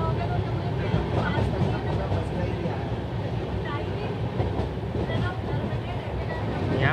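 A passenger express train on an Indian route between Ramganjmandi and Ujjain rumbles along steadily, a close, continuous roar with faint wheel clatter on the rails, heard from inside the moving carriage with voices in the background.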